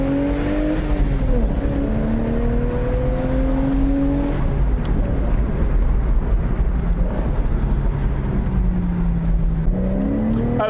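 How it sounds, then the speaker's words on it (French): A sports car engine accelerates with the windows down, mixing a shrill high-revving camshaft whine with a deep exhaust rumble. Rising engine tones climb and shift through the gears under steady wind noise, close and loud throughout. "Le son du moteur est un espèce de mélange entre une alarme stridente qui vient du haut moteur, les arbres à cam, et un grondement qui vient de l'échappement"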